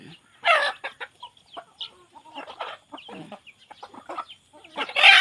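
Bantam hens and chicks clucking close by in short, irregular bursts separated by quiet gaps, with a few louder, sharper calls near the start and end.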